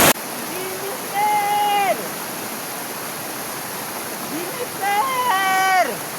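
A small stream, or sapa, runs over rocks as a steady broadband rush from start to end, while people talk and shout over it in short bursts.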